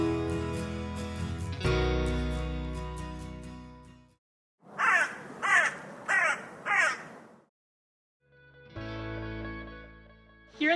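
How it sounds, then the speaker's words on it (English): Crow giving four harsh, rasping caws in a quick series, loud and close, set between stretches of sustained electronic music. "the most common one we hear is a harsh caw"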